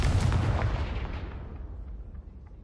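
A Confringo blasting spell explodes in the Hogwarts Legacy video game, a loud booming blast that rumbles and fades away over a couple of seconds.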